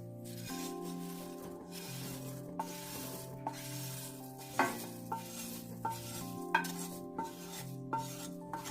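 Roasted beaten rice (aval) is stirred into hot milk in a pot for payasam, with soft swishing and a series of light clinks and taps from the spoon against the vessel over steady background music.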